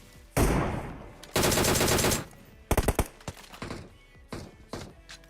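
Video game shootout gunfire: two long sustained automatic bursts, then a cluster of rapid sharp shots and a few scattered later pops, loud and close with background game ambience.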